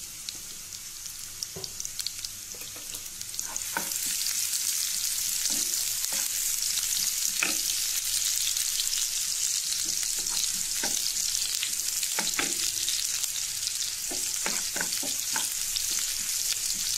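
Onion and garlic frying in mustard oil, sizzle swelling to a loud steady hiss after a few seconds, with repeated clinks and scrapes of stirring, near and without talk.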